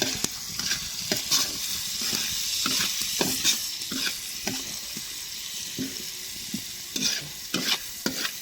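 Food fries in a pan on a home kitchen stove with a continuous sizzle. Scraping stirring strokes and clatter from a utensil against the pan break through at irregular intervals, close by, with no talking.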